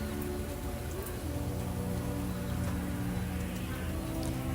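Heavy rain pours steadily over a market in Laos, a dense, unbroken hiss with a constant low rumble and no pauses.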